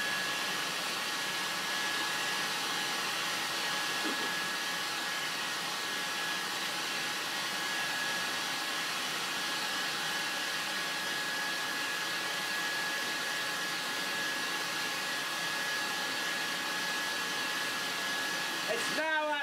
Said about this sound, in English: we're going to put a leaf blower on it so we'll get some kind of spin out of it